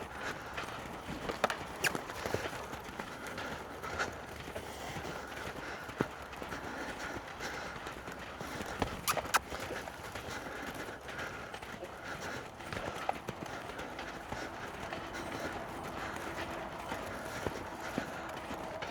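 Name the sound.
horse loping, hoofbeats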